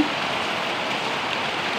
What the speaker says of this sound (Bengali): এই যে বৃষ্টি হচ্ছে, আল্লাহ রহমতের বৃষ্টি।